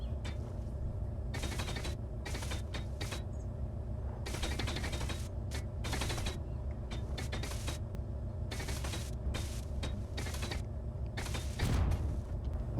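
A welder in the video game Space Engineers gives off a mechanical whirring and grinding drone that runs continuously over a low hum, with repeated bursts of harsher ratcheting noise.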